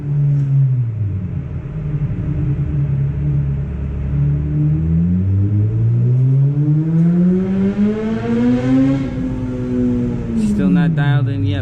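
A Suzuki GSX-R1000R superbike engine revs hard on a dyno, loud and close, its pitch climbing and falling in a long sweeping run before dropping off at the end.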